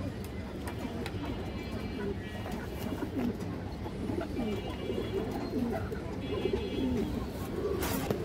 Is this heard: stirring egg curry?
no